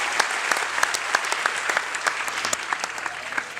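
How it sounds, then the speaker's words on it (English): Crowd at an evening speeches event for a kids' charity bike tour claps together in a steady, dense round of applause, with many sharp individual claps standing out through the full stretch. "Everybody clap and give yourselves a big round of applause"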